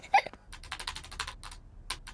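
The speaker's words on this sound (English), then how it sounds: "Peppa and George love to watch Mummy work on the computer" Quick, light taps on a computer keyboard in a Peppa Pig cartoon scene of Mummy Pig working on her computer, a short irregular burst of keystrokes.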